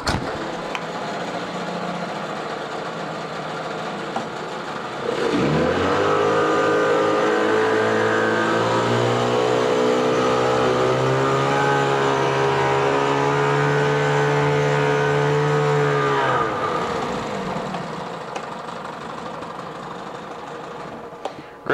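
A 1984 Johnson 9.9 hp two-stroke tiller outboard boat motor starts up and runs steadily with a buzzing, slightly rising drone for about ten seconds, then cuts off and fades, leaving quiet background noise.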